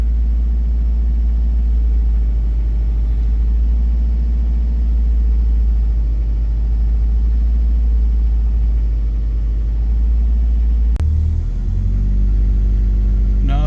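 A 1995 Subaru WRX GC8 engine idles with a steady, loud low rumble that holds even for about eleven seconds before briefly dipping and shifting in pitch.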